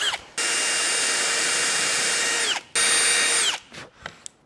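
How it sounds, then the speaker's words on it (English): A power drill driving 1 1/4-inch screws into a Sandy Vans Scout layout bed frame, running in two long, loud, steady whines, the second ending with the motor spinning down, then a few short clicks and taps. "We're going to drive those screws on."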